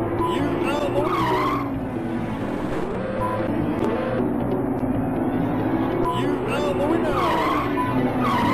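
Racing car tyres skidding and squealing in the Amiga game Wheels On Fire, a continuous loud engine drone with repeated screeching skids as corners are cut, with someone talking over it throughout.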